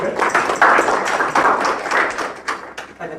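Audience applause at an HR Breakfast Club event in Mozambique, a steady burst of many hands clapping, fairly close and loud, lasting a few seconds with no talk over it.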